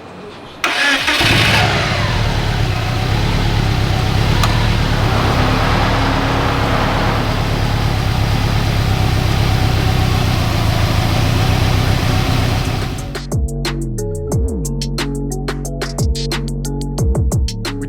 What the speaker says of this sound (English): I'm gonna crank the car over to get the fuel pump to activate